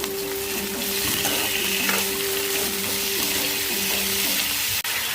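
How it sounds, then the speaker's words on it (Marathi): Onion frying in hot oil, a loud, steady sizzle that runs unbroken and close, with faint stirring scrapes now and then. "थोडं तेल, कांदा टाकायचा."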